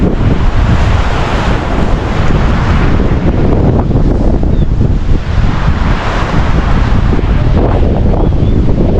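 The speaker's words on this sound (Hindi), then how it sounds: "और ठंडी ठंडी हवा" Cold wind gusts through the Sonamarg valley in Kashmir, a loud, close roar of buffeting air pressing on the microphone, swelling and easing without a break.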